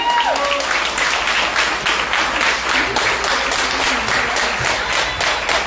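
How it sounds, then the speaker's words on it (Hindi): Steady, dense applause from a sizable crowd, continuous and loud throughout with no break. "जोरदार तालियों के साथ स्वागत कीजिए"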